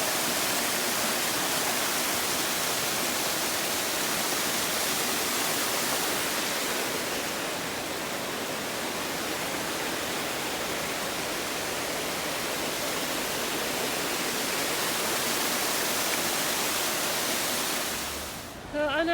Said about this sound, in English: passing yet another gorgeous waterfall